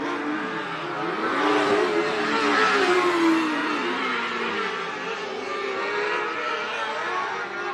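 Race cars roar around the track at Marion County Speedway, a loud sustained engine drone that swells as the field passes and then holds steady, in a continuous crowded wash of sound.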